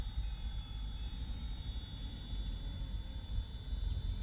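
Steady whine and buzz of a Flywing 3D RC helicopter flying nearby outdoors, its rotor and motor drone continuous with a thin high tone throughout.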